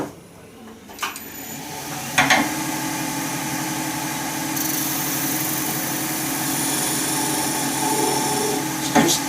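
Wood lathe spinning an epoxy hybrid burl resin blank for a shaving brush, with a carbide tool brought in gently to round the shape; a steady motor drone and scraping cut run throughout, punctuated by a few sharp contact clicks.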